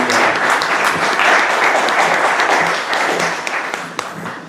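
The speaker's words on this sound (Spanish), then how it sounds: "Un aplauso, por favor." An auditorium audience at a weekly academic medical session claps loudly for the speaker after her lecture, a sustained wash of many hands close by that tapers slightly near the end.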